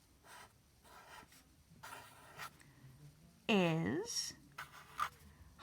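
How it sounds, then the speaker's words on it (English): A pen writing on paper in scratchy strokes with short pauses between them, close and clear, while a voice speaks briefly in the middle. "So I'm going to write"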